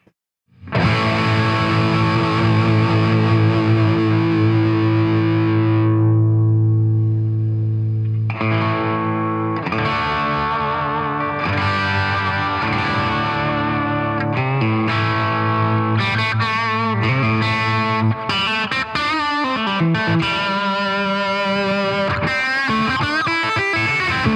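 A PRS SE electric guitar, pickups at full volume, played loud through heavy distortion, ringing chords sustaining and then faster riffing with gritty, saturated tone.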